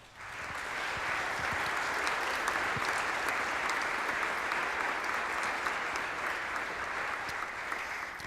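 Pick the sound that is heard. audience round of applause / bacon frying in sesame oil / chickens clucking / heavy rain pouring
audience round of applause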